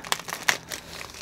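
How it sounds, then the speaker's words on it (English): A plastic package bag holding a diamond painting kit is ripped open by hand, giving a short burst of close crinkling and tearing with a few sharp crackles. "we're gonna rip it open."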